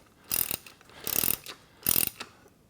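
Bolts are tightened on a Body Solid EXM3000 home gym frame with a ratcheting tool: three quick bursts of rapid metallic clicking, close and crisp, separated by short pauses.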